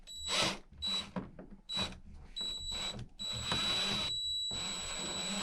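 Drywall screws being driven into an RV furnace duct panel in a tight space, with repeated short whirring bursts from a driver that stop and start, the screw catching and slipping, no talking.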